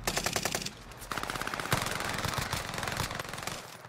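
Rapid automatic gunfire in an online shooter video game, fired through a box, rattles on continuously and loudly for several seconds.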